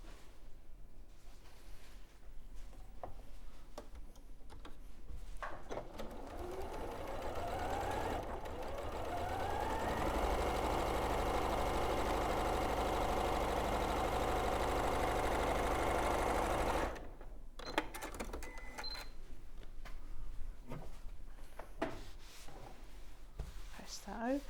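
A sewing machine stitches a cushion seam, whirring steadily for about ten seconds after a few short starts, with someone talking before and after.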